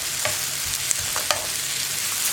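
Curry leaves sizzle and crackle in a pan of grape and tomato chutney, a soft steady frying hiss broken by a few faint pops and stirring scrapes.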